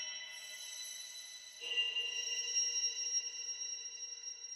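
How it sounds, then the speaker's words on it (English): A quiet sustained sample is drenched in shimmer reverb, its octave-up tones blooming into a bright, high, glassy wash that thickens partway through and lingers as a soft ringing pad. "I added a shimmer reverb."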